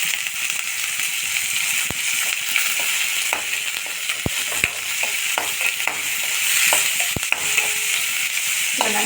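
Large chopped onions frying in a pan with a steady, close sizzling hiss and occasional sharp clicks of a utensil stirring against the pan, with no talking.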